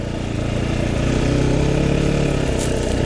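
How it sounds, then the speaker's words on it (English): A motocross bike's engine revs in second gear during a power wheelie, a steady buzzing drone held close and loud with a slight rise in pitch, heard alone without talk. "this bike can power wheelie in second gear, and that's me chickening out, as you can hear from the engine note"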